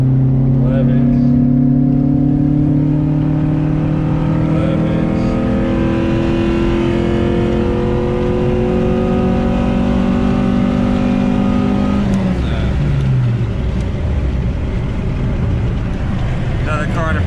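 Tuned car accelerating hard in 4th gear on a freeway during a street tuning pull, a loud engine drone climbing steadily in pitch for about twelve seconds, then easing off as revs fall.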